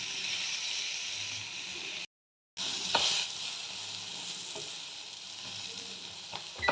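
Eggplant pieces sizzle in hot oil in a home kitchen pan before fenugreek greens go in, a steady close hiss with a brief silent gap and a few sharper spatters and stirring clicks.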